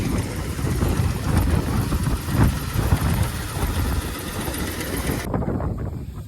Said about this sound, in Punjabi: ਆਪਣਾ ਟਰੈਕਟਰ ਵੀ ਆ ਗਿਆ